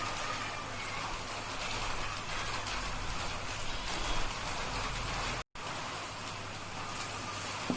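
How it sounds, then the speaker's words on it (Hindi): Steady rain falling outdoors, a continuous broadband hiss of drops on surfaces heard from indoors, fairly even and moderately loud throughout with a brief dropout near the end. "आज बाहर में बारिश हो रही है, आप लोग आवाज सुन पा रहे होंगे"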